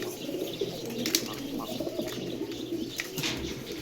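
A pair of Dil Khush pigeons coo steadily at close range, low soft calls over a continuous hum of other birds chirping in the background.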